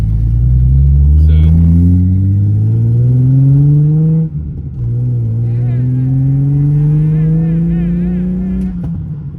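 Engine of an old car with broken turn signals and weak brakes revving and accelerating through several gear shifts, loud and close, with voices talking over it.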